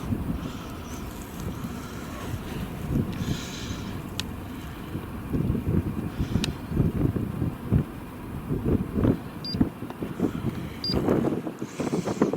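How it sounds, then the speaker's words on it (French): Steady gusty wind buffeting the microphone, a low rumbling roar that swells and fades throughout with no voices. "Pas mal de vent déjà."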